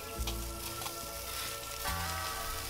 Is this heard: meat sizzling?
yes